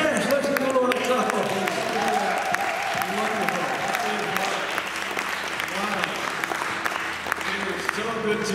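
A church congregation clapping together, a full, continuous round of applause with scattered voices and cheers mixed in, steady over eight seconds in a reverberant hall.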